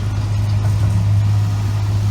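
A car engine rumbles low and steady at close range on a road beside a horse, holding an even hum with no break.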